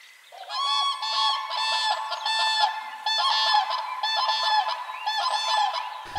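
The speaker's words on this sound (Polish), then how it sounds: "Żurawie to bardzo piękne, tajemnicze i dostojne ptaki." A group of common cranes calling together, loud overlapping trumpeting, rattling bugles in repeated bursts, close and continuous over several seconds, with no voices.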